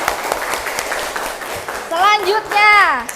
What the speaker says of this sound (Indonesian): Tepuk tangan untuk Rohmah